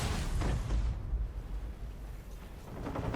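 A device explodes in the video game Resident Evil Requiem: a loud, close blast that quickly fades into a deep, rolling rumble, with no voices.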